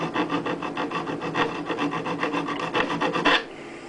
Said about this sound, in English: take a polishing stone to it